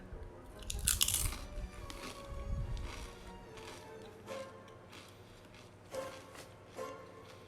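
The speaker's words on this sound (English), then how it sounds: "the crunch is great. Kettle chips always are." Someone bites and chews Hawaiian kettle-style ginger potato chips up close, with sharp crunches at first that fade into softer, irregular chewing.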